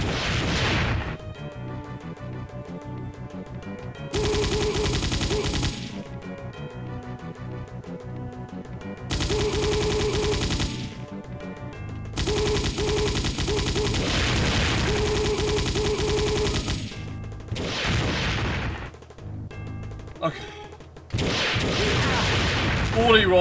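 Rapid chain gun fire in the Macintosh version of Wolfenstein 3D's Siberian Offensive, loud sustained bursts of several seconds with brief pauses between them, ending in a short final volley.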